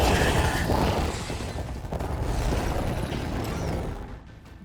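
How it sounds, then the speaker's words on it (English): Mechanical creatures ridden as mounts in Horizon Forbidden West rumble and clank in a dense, continuous roar with metallic ratcheting and booming low-end, fading quieter near the end. "They're riding machines!"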